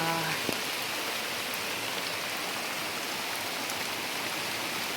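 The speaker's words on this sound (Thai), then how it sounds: "นี่ฝนตกโคตรหลายเลยพี่น้องนี่อ่า" Heavy rain pours steadily, a dense, unbroken hiss of drops hitting surfaces throughout, with no voices.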